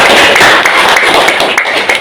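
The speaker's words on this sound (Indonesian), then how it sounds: "Tepuk tangan yang meriah" Lively clapping from a classroom audience during a teacher's performance assessment session, dense and continuous claps filling the room, loud and close.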